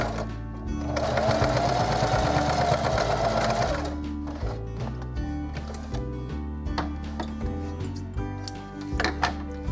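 A sewing machine stitches a zippered pouch in a fast whirring burst for several seconds, then a series of short, slower stitch runs with clicks and pauses, heard close.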